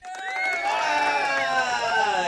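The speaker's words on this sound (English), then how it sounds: "please give a round of applause and welcome back your host, Big Rob." A crowd cheers and whoops in a recorded sound effect welcoming a show host, a steady bright roar of voices lasting a couple of seconds with some faint clapping beneath.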